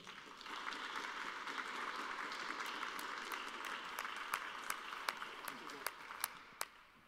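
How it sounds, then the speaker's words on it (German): An audience at an environmental and building award ceremony applauds in a steady, fairly quiet wash of clapping, with a few sharper individual claps standing out near the end. "Das ist Ihr Applaus."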